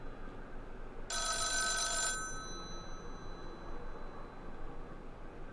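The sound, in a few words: ringing telephone in video game The Town of Light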